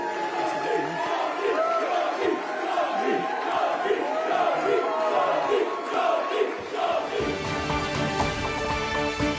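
A crowd at the Birmingham Yardley election count jeers loudly in a dense, continuous roar of mixed voices after Jess Phillips wins the seat, then gives way to a steadier tonal sound toward the end.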